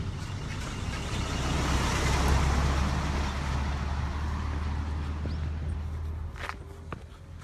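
A vehicle passes on a hillside road in Shibushi, Kagoshima, a broad low rumble swelling and fading over several seconds, close and fairly loud, with footsteps and outdoor wind noise mixed in.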